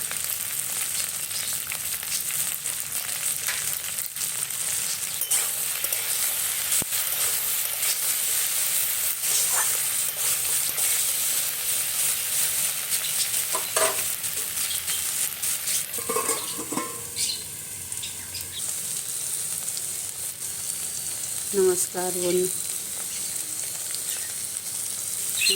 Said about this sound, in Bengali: আমি যেভাবে ভাজছি এভাবে এরকম ঢেঁড়স ভাজবে